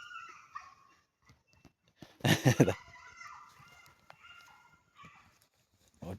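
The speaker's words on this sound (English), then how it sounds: "dog's caught a rabbit, I think." A dog barks in a quick loud burst outdoors, among chickens clucking and crowing in the background, with a brief word spoken nearby.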